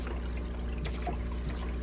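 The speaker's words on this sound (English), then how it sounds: "So I'm just gonna pour some water back in here." Water trickles and pours steadily into an aquarium tank being refilled with dechlorinated water, a soft continuous liquid stream with low background hum throughout.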